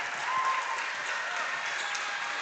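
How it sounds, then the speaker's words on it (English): A high school volleyball crowd in a gym applauds the seniors as they leave the court, with steady, full clapping that carries on without a break. "And the crowd responds accordingly."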